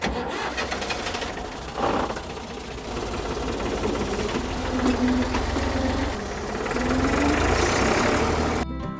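A farm vehicle's engine starting and running during harvest sheaf loading on a Polish farm: a loud, steady rumbling drone with rough mechanical clatter, rising slightly in revs, close by and continuous.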